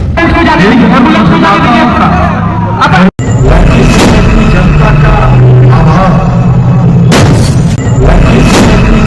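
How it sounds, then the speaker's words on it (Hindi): Rapid celebratory gunfire at an outdoor political event in Bihar held for the deputy chief minister, with loud, dense overlapping bangs and crowd babble running throughout the clip. "बिहार में एनडीए सरकार बनाने की खुशी, धड़ाधड़ गोलियां बरसाई जा रही हैं।"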